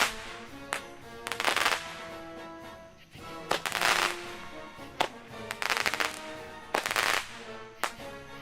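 Fireworks burst in repeated loud crackling volleys, sharp bangs and fizzing sizzles coming in clusters about a second apart, close and with no talk over them.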